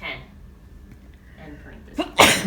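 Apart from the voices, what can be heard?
sneeze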